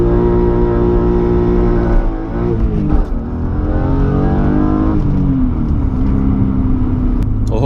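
A BMW E36 M3 engine revs hard and loud while the rear-wheel-drive car drifts, its pitch rising and falling in sustained, close-up surges with no voices.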